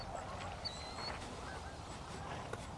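Geese honk faintly at a distance during an early-autumn goose hunt in South Carolina, a few brief calls over steady outdoor background noise.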